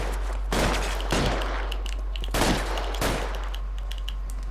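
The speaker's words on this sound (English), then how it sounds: "So I'm shooting with a bit of aggression here." Gunfire during a shootout in the L.A. Noire video game on PS4: four heavy bursts of rapid shots, each a second or so long, crack out loud and close over a steady background hum.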